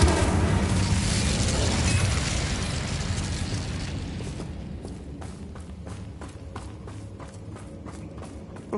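A fire spell blast from the video game Hogwarts Legacy roars in a loud, dense burst that slowly fades into crackling pops and quick footstep-like taps, with no speech.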